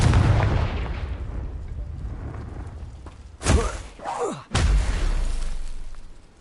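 A fiery spell explosion in Hogwarts Legacy: a sharp booming blast with a whooshing swoop, a second crack close behind, then a fading rumble.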